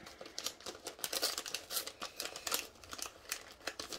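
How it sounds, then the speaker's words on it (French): A cross-stitch craft kit package is torn open by hand, with a close, busy run of crinkling and ripping plastic that comes in quick irregular bursts. "je crois que je vais être obligée de le déchirer"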